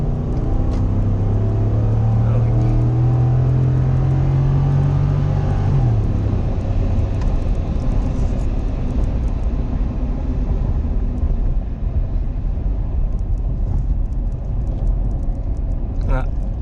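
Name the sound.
Ford F150 truck engine revving with Pedal Commander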